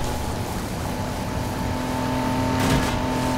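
A BMW car races up a street at night in Need for Speed Heat, its engine droning steadily with a tonal hum and a brief louder surge near the end, with no talk.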